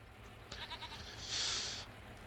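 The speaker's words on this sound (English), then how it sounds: "I have 250 of 314 goats, but some of these are really small." Goats bleat in the farming video game Farming Simulator 25, one clear, close, drawn-out bleat rising over quieter calls and a low background hum.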